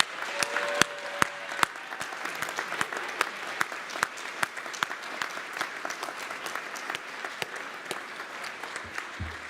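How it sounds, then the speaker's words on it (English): An audience at a spring salon fundraiser gives students a round of applause, steady dense clapping with a few sharp louder claps standing out, sustained for several seconds in a room. "Can we give a big round of applause to these students?"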